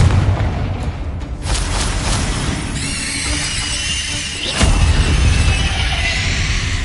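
Confringo fire spell going off in the video game Hogwarts Legacy, a loud, continuous roaring blast with a sharper burst near the end, filling the whole clip.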